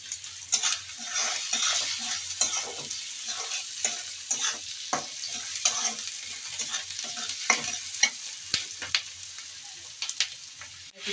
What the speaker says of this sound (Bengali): সবজিগুলো দিয়ে দিয়েছি নেড়ে ফেড়ে নিচ্ছি